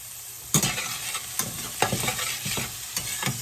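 Beef liver sizzles steadily in a pan while a utensil stirs and scrapes it, giving several distinct clanks and scrapes over the continuous frying hiss, fairly close.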